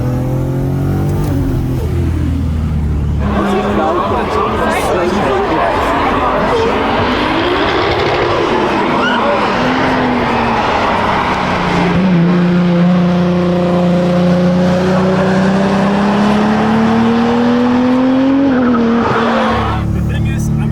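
A 1000HP Toyota Supra on semi-slicks at speed on the Nürburgring: a loud, close engine drone that climbs and drops through the gears over a steady roar of tyre and road noise, with voices talking over it.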